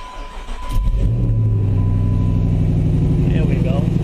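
A Jeep SRT8 engine cranks on a cold start and catches, settling into a loud, steady idle with deep exhaust rumble through a faulty muffler and a faint whine on top.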